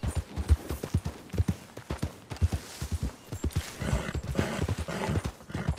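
A horse in Red Dead Redemption 2 gallops with a rhythmic, close run of heavy hoofbeats, thudding evenly over the ground and fairly prominent, with no speech over it.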